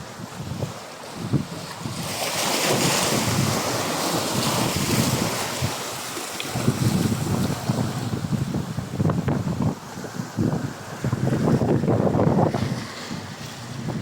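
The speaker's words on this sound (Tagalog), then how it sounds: "Ayan yung dagat to." Sea waves washing against a rocky shoreline, a continuous rushing surge that swells and recedes with gusty wind buffeting the microphone, fairly loud and close with no talking.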